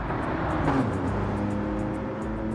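A Gran Turismo 7 Group 4 race car engine drones steadily at mid distance at Red Bull Ring, a continuous motor hum with a slight swell partway through.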